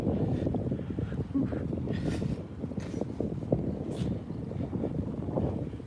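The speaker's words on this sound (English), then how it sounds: "It even sounds windy down there." Steady low rumbling wind gusts buffet the microphone continuously down a stairway in a Japanese lakeside town, with a broad roar filling the background throughout.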